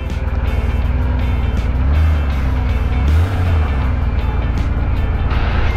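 Restored Honda CBX1000 motorcycle engine running at a steady, loud, close idle-to-low rumble, with a couple of brief throttle swells, no talking.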